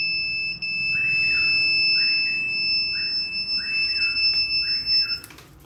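Buzzer on a smart helmet ignition system sounding a steady series of electronic beeps, loud and close, followed by a couple of clicks and handling noises at the end.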